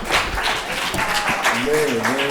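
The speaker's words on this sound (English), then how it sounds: "Give them a round of applause." Audience applause at a digital equity town hall after a panel of guests is thanked, steady broadband clapping throughout, with voices talking over it and a speaking voice rising near the end.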